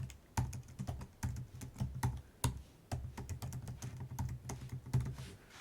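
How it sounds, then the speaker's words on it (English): Typing on a computer keyboard to enter Wi-Fi details during a Raspberry Pi setup, with close, rapid irregular key clicks in bursts and a brief pause midway. "I'm going to type in my"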